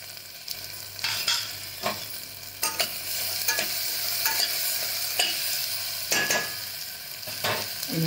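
Spices and a spoonful of salt sauté in hot oil for matki usal, giving a steady close sizzle. A spoon scrapes and stirs the pan in repeated strokes, with no talk.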